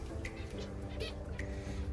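Finches in an outdoor aviary chirp in short, scattered calls over a steady low background hum, moderately close and without talk.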